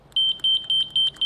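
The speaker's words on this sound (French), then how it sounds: "il est caché et c'est un klaxon numérique." The digital horn of a Ninebot G2 Max electric scooter, hidden low on the scooter, gives five short, even, high electronic beeps in a steady rhythm, loud and close with no talk.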